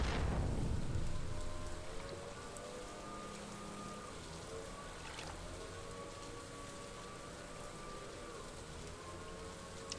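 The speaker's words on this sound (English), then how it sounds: "Might as well fish since it is raining." Rainfall ambience in the video game Stardew Valley, a soft, steady wash of rain with faint tonal hums underneath and a louder burst at the start, otherwise even and quiet throughout.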